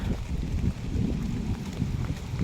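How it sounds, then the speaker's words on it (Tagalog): Wind gusts buffet the microphone in a low, fluttering rumble, steady and close throughout the short stretch. "Naglilipad kasi may hangin"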